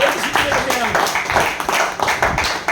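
An audience claps steadily at a marketing-plan presentation, the dense patter of hands running throughout beneath a voice speaking over it.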